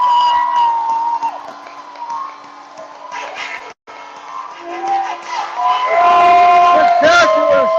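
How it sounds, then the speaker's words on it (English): A hockey arena crowd roars after the Rangers tie the game at 3 in the third period, loud sustained cheering with whistles and a horn-like tone, swelling toward the end. "And the crowd is going crazy."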